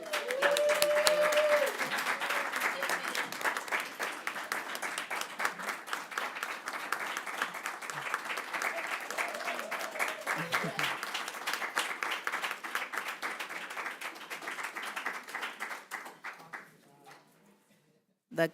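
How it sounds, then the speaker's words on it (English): Audience applause at a school board meeting, sustained close clapping from a room of people for about fifteen seconds, with a voice briefly calling out at the start before the clapping fades to quiet. "I think you deserve another round of applause."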